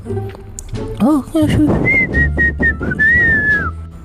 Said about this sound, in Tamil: அப்படியே விசில் அடிச்சுட்டு